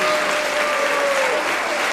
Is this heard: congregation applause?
yes